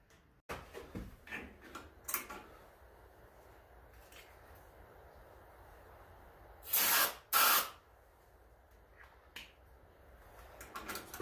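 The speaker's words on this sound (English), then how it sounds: "I have to use a little spritz of starting fluid" Two short hissing spritzes of starting fluid sprayed into a Toro 421 small engine that has no primer bulb hooked up, heard close and fairly loud amid quiet clicks and handling noises.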